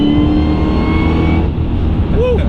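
An American sports car's engine revs hard under acceleration, a loud, dense, rising roar that holds steady and then eases off near the end, close to the listener.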